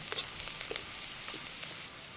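Chopped garlic and ginger fry in hot oil, a soft steady sizzle with small crackles and pops, close and fairly quiet with no voices.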